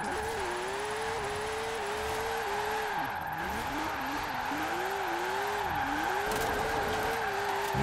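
A retro Porsche engine in the racing game Forza Horizon 4 revs and drops in pitch through gear changes, with tyre squeal and skidding woven through a continuous, close driving roar.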